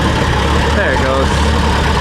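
A Farmall tractor engine idling roughly and stumbling soon after a cold start, a loud close uneven low chug that runs continuously.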